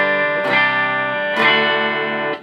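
Electric guitar on the bridge pickup with a clean tone: two strummed chords ring out in sequence, each with a bright attack and a sustained decay, with no voices.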